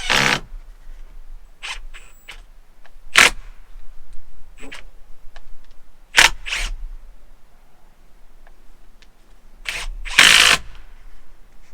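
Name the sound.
power drill driving screws into scrap wood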